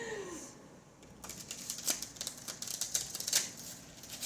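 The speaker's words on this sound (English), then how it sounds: "Oh, these are gonna be hard to shuffle with my hands." Tarot cards being shuffled by hand, a run of crisp papery riffles and flicks that starts after a brief quiet moment and continues unevenly, close up and fairly soft.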